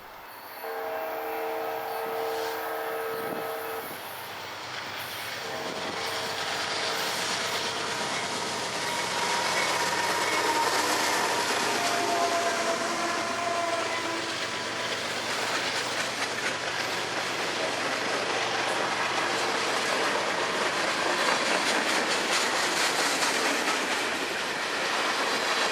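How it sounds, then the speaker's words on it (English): A freight train rolls past close by along Puget Sound, rumbling and clattering steadily on the tracks, with a horn-like tone early on and growing wheel noise. "We'll just have to see at the back end of this train."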